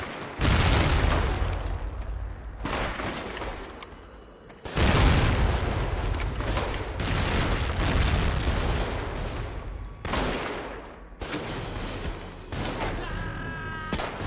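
Grenade blasts in Medal of Honor: Rising Sun on hard difficulty, several heavy booming explosions in succession with rumbling debris, some gunfire mixed in, loud and close.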